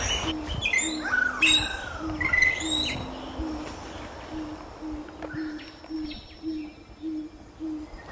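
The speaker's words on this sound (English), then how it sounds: "Enjoy the soundscape of Tonga" Outdoor Tongan soundscape with several birds calling: repeated low hooting coos in a steady rhythm beneath sharp, rising whistled calls from other birds, moderately near.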